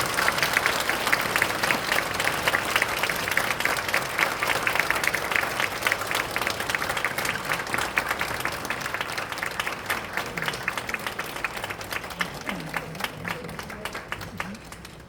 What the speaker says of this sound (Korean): 선물 증정하셔서 박수로 축하해